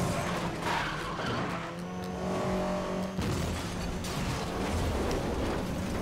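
A car power-drifting in Need For Speed Most Wanted 2012, with a sustained tire squeal over a roaring engine, loud and close, then the engine pulling away as the slide ends.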